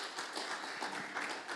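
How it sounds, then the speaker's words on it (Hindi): A congregation at a Sunday Hindi church service claps together to welcome newcomers, continuous mixed handclaps filling the room at a modest level, with no talking. "क्यों ना जोर से ताली के स्वागत करें वो लोग को"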